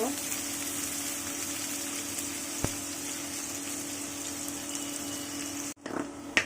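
Onions frying in oil for an eggplant and tomato mash, a steady broadband sizzle crackling throughout at moderate level, with one sharp tap midway and a brief break and clatter near the end.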